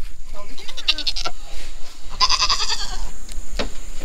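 Goats bleating on a farm in the morning, several wavering calls near the microphone at different moments, with people talking and calling to the animals over them.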